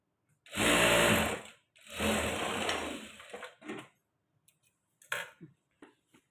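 A sewing machine stitches a straight seam on a blouse in two sustained whirring runs, close and steady, followed by a few short bursts and clicks as the fabric is adjusted.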